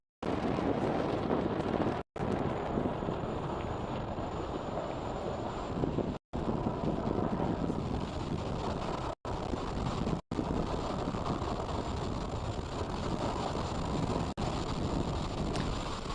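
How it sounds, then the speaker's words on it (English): SpaceX Falcon 9 rocket ascending after liftoff from Space Launch Complex 4 East, a steady, broad, wind-like roar that continues throughout with a few brief dropouts. "Falcon 9 has successfully lifted off from Space Launch Complex 4 East, as you can hear on your screen"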